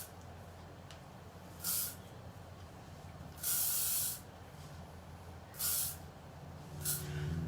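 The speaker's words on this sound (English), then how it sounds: "I'm going to use a little bit of the Matrix hairspray." Matrix hairspray is sprayed onto a dummy head in four short hissing bursts of varying length, close and clear over a quiet background.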